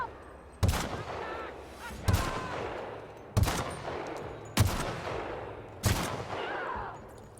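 Gunfire in The Outer Worlds video game, five loud single shots at a steady rhythm about one and a quarter seconds apart, each followed by a short echoing tail.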